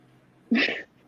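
A single short cat meow, close and fairly loud, in an otherwise quiet room.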